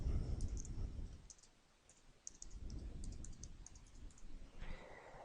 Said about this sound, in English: we just type in a serial number that we usually get from the back of the